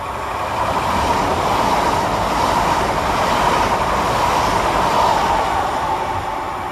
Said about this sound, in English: right on his heels of Transpennine Express is 802-203, working 1 Papa 21 from Liverpool Lime Street to Newcastle via Manchester